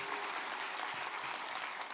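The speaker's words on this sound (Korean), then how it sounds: "우리 격려와 박수 한번 해주시면 좋겠습니다" Church congregation applauding during a Sunday worship service, a steady dense wash of many hands clapping that fills the whole two seconds without a break.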